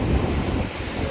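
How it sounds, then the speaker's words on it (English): Ocean waves break and rush at a resort beach in surf made bigger by recent storms, giving a continuous loud roar that is mixed with wind buffeting the microphone. "How the waves are bigger, probably because of the storms recently."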